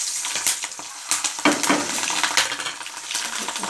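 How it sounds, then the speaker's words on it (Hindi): Whole spices hit hot oil in a kadai, giving a crackling sizzle with sharp spattering pops and light metallic clinks, close and fairly loud. "तो मैं सारे फ़ौरन को ऐड कर दूँगी कढ़ाई में, इन सभी को मैं डाल देती हूँ।"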